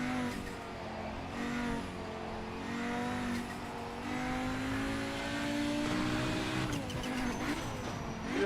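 A race car's engine revs and drones steadily in the sim racing game Project Motor Racing, a continuous tonal roar with rising and falling pitch as the car accelerates and shifts, loud and close throughout.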